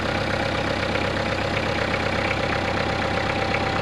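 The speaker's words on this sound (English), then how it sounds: "This tractor's always been a real smooth runner, easy to start." A Kubota diesel tractor engine idles steadily after a cold start in freezing weather, a constant close mechanical chugging hum with an even low rhythmic throb and little change.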